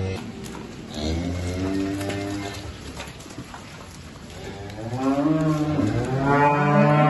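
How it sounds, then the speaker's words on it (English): Hungry cattle moo at close range, several long, loud, tonal calls overlapping one another as the herd waits to be let in for evening feeding on a farm, with one call swelling louder near the end. "Hungry cows behind me."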